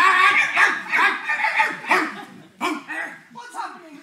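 A dog barks and yips repeatedly during a theatre stage performance, with several bursts spread over a few seconds, mixed with voices and vocal sounds that may include a performer imitating the dog.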